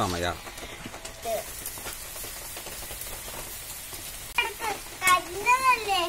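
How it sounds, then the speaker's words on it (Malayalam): Eel fish sizzling and spitting on a grill in Kerala, a steady close crackle with stirring noises, while a voice talks over it. "ഇപ്പോൾ നമ്മുടെ ഗ്രില്ല് സംഭവം ഉഷാറായിട്ടുണ്ട്"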